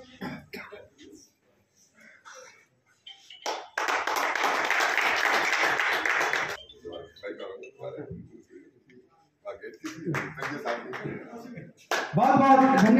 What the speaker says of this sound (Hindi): बढ़िया तालियों की गड़गड़ाहट से जोर से तालियां